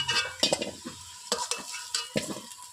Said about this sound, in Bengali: আলু ভাজা হয়ে গেছে, আলুটা তুলে